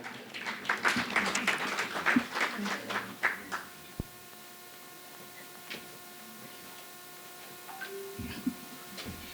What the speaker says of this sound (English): EcoBank, please, a round of applause.